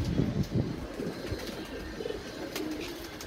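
Pigeons cooing close by in a low, repeated warble, with some rustling and background noise, caught by a net and held by the head.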